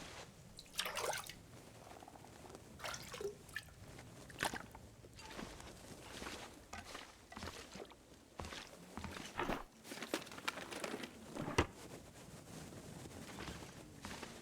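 Toilet water is taken in the survival game The Long Dark: faint liquid sloshes and drips mix with soft footsteps and shuffling, quiet and close.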